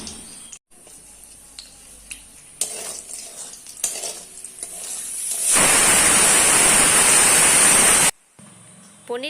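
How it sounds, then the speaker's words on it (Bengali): Paneer pieces going into hot oil in a kadai, quiet clattering and handling sounds that give way to a loud, dense, steady frying hiss for a few seconds, then a sudden stop and softer noises. "পনিরটা আমি পিস করে কেটে নিয়েছি আর এদিকে কড়াইতে তেলও বসিয়ে দিয়েছি পনিরটা এরপরে ভাজবো"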